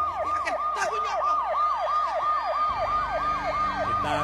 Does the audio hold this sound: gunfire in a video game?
no